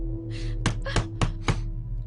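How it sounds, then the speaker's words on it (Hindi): Four firm knocks land on a closed house door at a steady pace, heard close over a constant low electrical hum. "दरवाजा खोलो संजय।"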